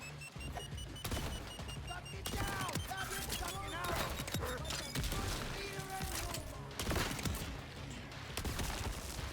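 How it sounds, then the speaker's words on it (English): Jakobs shotguns fire in Borderlands 4 with repeated sharp blasts and impacts among other game effects, while someone talks over the action. "And it's working as a decent cryo gun because I get to add that to my shots with Vex."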